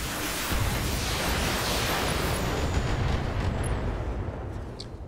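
A mech in the turn-based game Battletech unloads all its weapons at once, a dense, sustained roar of overlapping blasts and rumbling fire that fills the whole stretch at high volume without letup.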